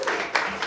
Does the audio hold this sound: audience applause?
yes